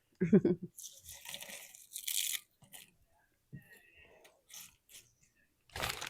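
Crunchy chips crushed by hand over the top of a chili cheese dog casserole, giving a few short bursts of crackling and crinkling with quiet gaps between them.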